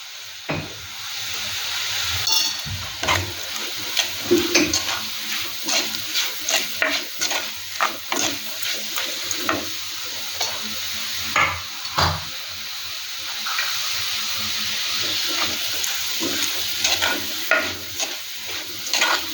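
Sliced onion with salt and turmeric powder sautéing in a pan, a steady close sizzle broken by repeated scraping and stirring strokes throughout, with no talk.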